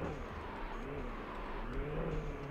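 A Koenigsegg Agera R supercar engine drones steadily in the BeamNG.drive driving game, a faint, continuous mid-range hum with slight rises in pitch and no talk.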